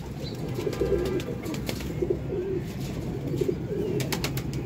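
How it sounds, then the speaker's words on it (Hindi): A Bateri pigeon coos in a low, rolling rhythm, repeating its call several times close by over a steady background of other birds and faint outdoor noise. "देखो जी आ बटेरा कबूतर है दोस्तों।"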